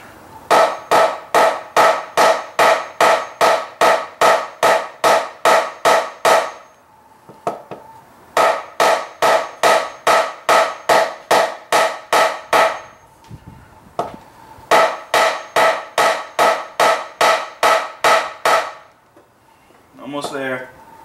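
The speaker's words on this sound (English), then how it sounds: "Kind of lightly start hammering it down." Steady hammer blows striking wood in three rapid bursts of regular, evenly spaced hits, close and loud, with short pauses between runs and a brief voice at the end, while assembling a custom guitar.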